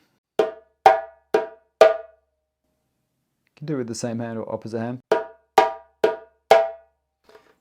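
Four crisp djembe strokes alternating tone and slap, then a brief spoken remark, then four more alternating strokes, close and punchy in a steady rhythm.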